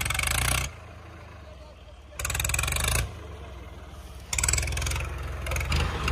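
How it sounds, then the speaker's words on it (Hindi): A Swaraj 855 tractor strains to pull a trolley stuck in a pit, its engine roaring loud and near in repeated surges that rise and fall between heavier revving bursts. "ट्रैक्टर ने तो बहुत जोर लगाया लेकिन क्या करा भाई निकली नहीं"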